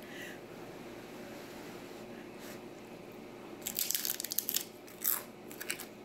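Biting into spinach artichoke dip, a burst of close crunchy chewing followed by a few softer wet crunches, alone over quiet room tone.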